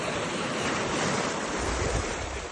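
Close, loud surf crashes on the shore at Saint Martin Island, Bangladesh, a continuous roar of breaking waves with gusts of wind hitting the microphone.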